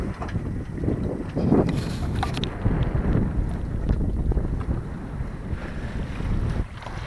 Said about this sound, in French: voile bien réglé, voilier qui avance bien